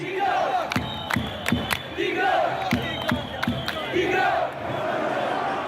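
A large protest crowd in Algeria chants in rhythmic waves, sharp claps and shouts punctuating the roar of many voices, loud and close throughout.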